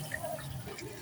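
Water is poured into a pot of rice cooked with onions in a home kitchen, a brief soft splashing trickle at moderate-low volume lasting about a second, with no voices over it.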